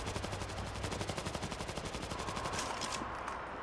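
A mounted machine gun in the zombie shooter World War Z: Aftermath fires a steady, rapid stream of rounds, evenly spaced and continuous, fairly quiet and without talk.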